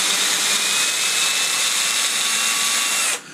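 A DeWalt drill runs in reverse to back a tap out of an oiled 80/20 aluminum extrusion. The loud, close, steady high motor whine holds for about three seconds, then cuts off abruptly.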